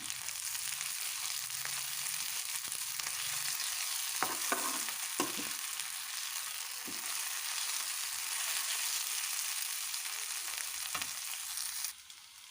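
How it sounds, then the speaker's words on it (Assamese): Ginger and garlic paste fries in a pan with a steady, even sizzle. A few scraping stirs break in near the middle, and the sizzle drops away near the end. "এতিয়া আদা নহৰু গোন্ধ নোযোৱালৈ ভাজি থাকিম 2 মিনিটমান"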